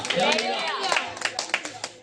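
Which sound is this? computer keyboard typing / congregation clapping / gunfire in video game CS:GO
congregation clapping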